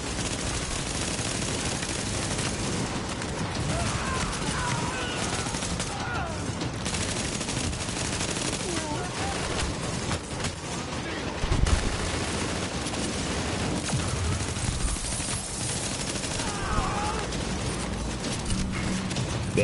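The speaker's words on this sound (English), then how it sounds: "Someone's still shooting." Rapid bursts of automatic gunfire from a firefight in The Division's Dark Zone, dense crackling volleys filling the whole stretch with a louder thump near the middle, muffled player chatter faintly underneath.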